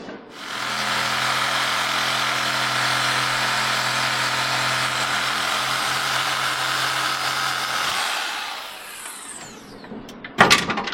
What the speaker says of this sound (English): I'm about to take that Sawzall and shove right in there and cut that bolt off